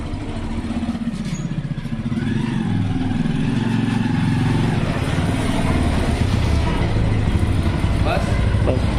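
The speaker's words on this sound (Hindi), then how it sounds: "अब बाइक को अपनी चढ़ाते हैं अंदर, सीधा वहाँ खड़ी करेंगे।" A motorcycle is pushed and ridden up into a house, its mid-range engine running steadily and close by, with clattering as it climbs inside.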